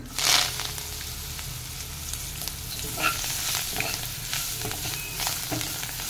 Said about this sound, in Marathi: आता याच्यामध्ये चिरलेलं अळू आणि देठ घालूयात।